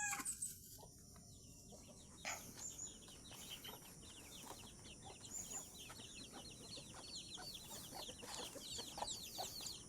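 Native chickens cluck and chirp on a farm, a busy layer of overlapping calls at moderate distance over a faint outdoor background.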